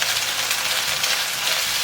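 Chicken wings sizzle in a pan with a little cooking oil and ginger slices, giving a continuous, even hiss of frying close up, with no talking.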